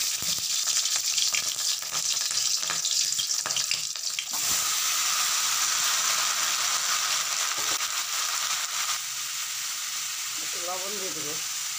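Dried red chillies and panch phoron sizzle in hot oil with a steady, loud broadband crackle that fills most of the stretch, easing slightly toward the end as a brief voice-like sound appears.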